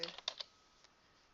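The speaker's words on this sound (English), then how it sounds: "I'm just going to type the value Word" Typing on a computer keyboard produces a few quick, faint key clicks close by, followed by near silence and one last tap.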